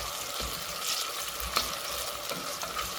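Onions fry toward golden brown for pilau rice, sizzling steadily in a hot pan with a bright crackling hiss, punctuated by soft scraping and stirring sounds, close by.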